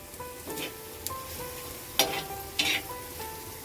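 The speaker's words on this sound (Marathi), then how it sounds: "आता जरा ढवळून बघतोय आणि शिजू दे जरा चांगलं" Shellfish (mussels) cook in a pan as they are stirred, a steady sizzle broken by a few clattering scrapes and knocks, close and fairly quiet.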